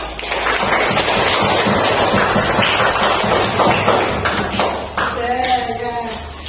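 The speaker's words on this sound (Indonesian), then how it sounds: "Ayo tepuk tangan" A classroom of students claps together, a dense, fairly loud patter of many hands lasting several seconds before fading into talk.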